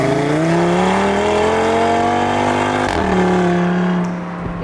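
A stage 1 tuned Audi RS3 making 475 brake horsepower holds a loud, close engine note whose pitch climbs steadily as it revs, then settles back down near the end.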